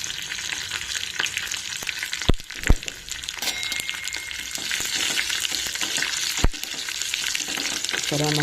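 A pinch of asafoetida dropped into hot oil with tempering seeds and curry leaves for a chutney, producing a loud continuous sizzle and crackle, a couple of sharp knocks midway, close and alone.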